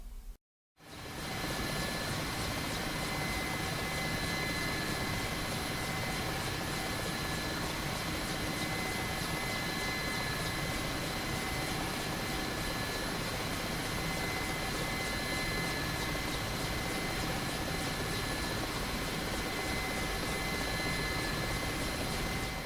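An Mi-8 helicopter in the DCS flight sim drones in a steady, dense rotor and turbine roar for over twenty seconds after a brief silent start, constant and close with no speech.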